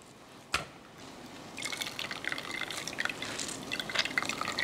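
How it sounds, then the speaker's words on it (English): Salty green water squeezed by hand from salted zucchini drips and trickles into a container, a sharp drop early on followed by a steady run of close splashy drips. "We're going to start squeezing what's left of the water in the"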